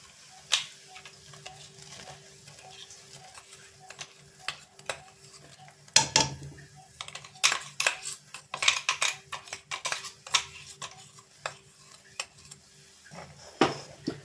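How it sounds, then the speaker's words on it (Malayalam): Ground spices being stirred into boiling tamarind water for a Kerala-style ginger curry. Quiet, scattered scrapes and light clinks of a spoon against a pot sound over a soft simmering background. "ഇപ്പം നമുക്ക് തിളച്ച് വന്നിട്ടുണ്ട് വെള്ളം, പുളിവെള്ളം. നമുക്കിനി ഈ പൊടിച്ച് വെച്ചേക്കുന്നത് അതിനകത്തോട്ട് ഇടാം."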